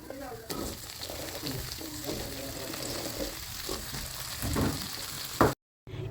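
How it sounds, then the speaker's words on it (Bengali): Chopped cauliflower fries in hot oil with panch phoron and ginger, a continuous close sizzle with stirring scrapes and a voice talking faintly over it, ending in an abrupt cut. "যখন এর খুব সুন্দর একটা সুগন্ধ বেরোবে তখন দিয়ে দেব কেটে রাখা ফুলকপি"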